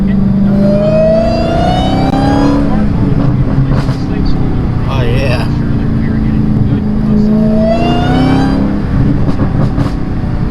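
A supercharged Dodge Challenger Hellcat with a JLT intake accelerates hard in second gear, its engine note and supercharger whine climbing steadily twice, loud and close, with a brief excited voice over it.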